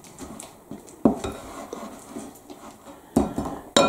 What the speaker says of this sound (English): the cream cheese goes into the bowl first. And just give that a little bit of a mix just to start breaking it down a bit.